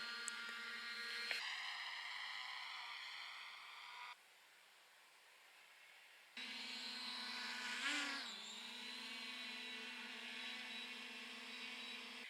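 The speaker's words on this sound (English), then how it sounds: "Now we're trying the drone." A camera drone flies outdoors on a cold winter evening at sundown, giving a steady, fairly loud whining buzz with stacked rotor tones that cuts out briefly, resumes and shifts pitch as it maneuvers, with no talking.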